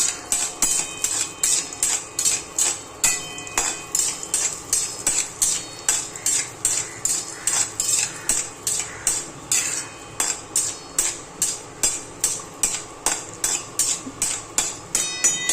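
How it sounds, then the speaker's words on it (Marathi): Cashews roasting in ghee in a pan for carrot halwa, stirred with a metal spoon that scrapes and clinks against the pan in a steady, close repeating rhythm, with no talk. "तर हे काजू भाजून घ्यायचे थोडेसे हलकेसे ब्राऊन होईपर्यंत"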